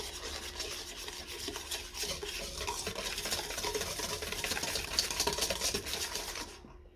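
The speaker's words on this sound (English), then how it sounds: "I have here two eggs large eggs and half cup of sugar you just have to mix this" Two large eggs and sugar are mixed in a bowl, with a continuous fast rasping whisk that runs steadily, close up, then stops abruptly at the end.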